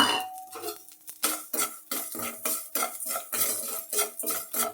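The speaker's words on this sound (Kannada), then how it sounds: "ಮೊದಲಿಗೆ ಒಂದು ಬಾಣಲಿ ತಗೊಂಡು ಉಪ್ಪು ಹುರ್ಕೊಳ್ತೀನಿ" Salt being dry-roasted in a frying pan, a spoon scraping and clinking against the metal in a quick irregular rhythm of stirring strokes, close and fairly quiet.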